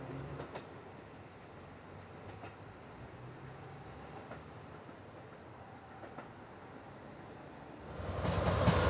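JR Freight train hauling rail-carrying flatcars on the Nagoya Port Line, rumbling steadily at a moderate distance with faint periodic wheel clicks, then swelling louder and closer near the end.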